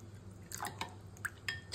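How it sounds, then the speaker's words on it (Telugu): A little water goes into curd chutney being mixed in a kitchen, heard as a few soft, wet drips and splashes spaced irregularly, close by and faint, with no talk. "కొంచెం వాటర్ వేసుకోవాలి."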